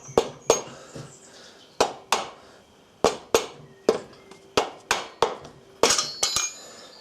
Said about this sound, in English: tap either side, the rubber hammer